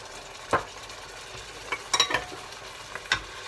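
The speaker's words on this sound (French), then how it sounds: "je remue au fond de la casserole pour un peu déglacer les sucs de la saucisse" A utensil scrapes and stirs in a pan with a few distinct clinks, deglazing browned sausages with red wine, over a steady low sizzle of frying.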